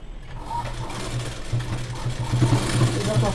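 A sewing machine stitching a plain blouse runs in a steady mechanical whir with a rhythmic pulsing hum, close and continuous, speeding up slightly toward the end.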